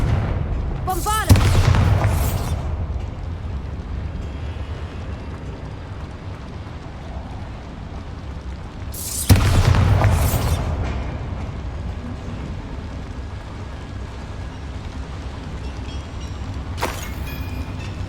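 Two heavy blasts from Bombarda and Confringo spells in Hogwarts Legacy, each a sudden loud boom with a rumbling tail, spaced several seconds apart over quiet game ambience, followed by a fainter third burst near the end.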